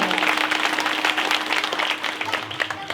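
A village audience at a devotional singing gathering applauds the singer, a dense, loud wash of clapping that holds steady for the whole stretch.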